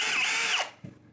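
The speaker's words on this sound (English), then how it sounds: "I got a drill bit on this thing" A handheld power drill with a bit fitted whines at high speed for about half a second, then spins down, followed by a faint low thump.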